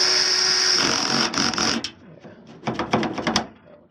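A power drill on low torque tightens tailgate lock screws on a 2004 Toyota Tundra, whirring in a sustained burst and then in several short pulses, close and fairly loud.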